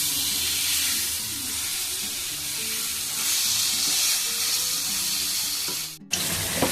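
Pointed gourd (potol) frying in spiced masala in a pan over a medium flame, giving a steady close broadband sizzle with faint stirring scrapes and background hum, cut off abruptly near the end.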